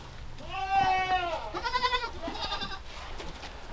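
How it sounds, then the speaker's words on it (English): A Kiko goat bleats on a farm, two or three loud, wavering cries close by, the first long and drawn out, followed by shorter quavering calls. "Okay, so there's a goat there."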